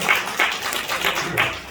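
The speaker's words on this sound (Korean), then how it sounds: "박수." Brief applause from a church congregation welcoming a returning member, a short burst of scattered hand claps in a room.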